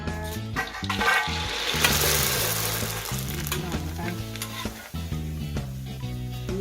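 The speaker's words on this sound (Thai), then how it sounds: "เราจะทอดหมี่ให้ ให้กรอบก่อนนะคะ" Rice noodles deep-frying until crispy, a loud steady sizzle and bubbling of hot oil running throughout, with music playing over it.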